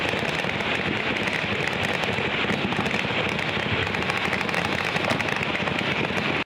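Gunfire rings out at a joint Abkhaz and Russian military live-fire tactical exercise. Dense, overlapping shots crackle continuously at moderate loudness, like distant rapid volleys blending into a steady rattle, with no voices.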